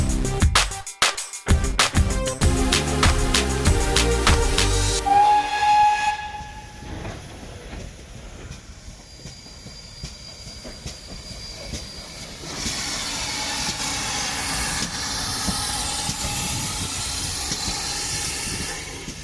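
GWR 5700 class pannier tank 7714, a steam locomotive at a heritage railway gala, hisses steam and blows its whistle at a station, with clanking and rail noise, then a steady, moderately loud rumble of the train moving off.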